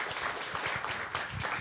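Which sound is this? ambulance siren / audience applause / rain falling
audience applause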